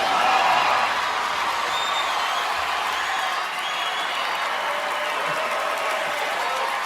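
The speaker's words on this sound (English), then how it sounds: "Robert De Niro says, F Trump, to cheers from the crowd." A large crowd applauds and cheers loudly after Robert De Niro's remark about Trump at an event, a dense sustained roar of clapping that stays steady for about seven seconds.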